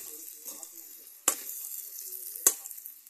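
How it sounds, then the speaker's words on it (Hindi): Cumin and chili tempering in hot sweet oil for sabudana khichdi: a steady, soft sizzle of frying, broken twice by sharp, loud spitting crackles. "जीरा मिर्च तड़का दे है, मीठा तेल डाले है"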